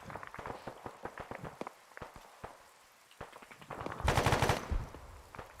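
Machine gun fire in the military game Arma 3, heard as rapid bursts of sharp cracks at uneven intervals. A louder, denser volley toward the end sounds closer than the earlier shots.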